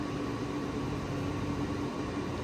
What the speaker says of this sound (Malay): printer dia sedang berbunyi, menunggu untuk siap printing